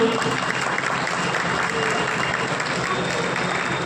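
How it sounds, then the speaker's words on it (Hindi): A crowd at an award ceremony claps loudly and continuously, the wash of applause holding an even level with a faint hum beneath it. "जोरदार ताली बजाइए आप प्लीज"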